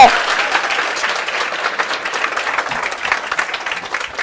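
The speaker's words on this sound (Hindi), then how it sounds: "please put your hands together" An audience claps and cheers in a steady, dense wave of applause that carries on for the whole four seconds with no break.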